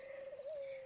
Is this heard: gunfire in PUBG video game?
no